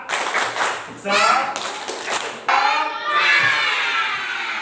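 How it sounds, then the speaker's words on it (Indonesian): A class of schoolchildren does a rhythmic 'tepuk semangat' spirit clap, loud and close, with bursts of clapping and chanted shouting in several phrases. "Oke, kita tepuk semangat dulu."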